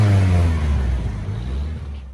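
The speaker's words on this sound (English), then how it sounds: "Despite all this, the car starts." An old, battered car's engine runs and revs, a mid-pitched drone that rises, then eases off over about two seconds.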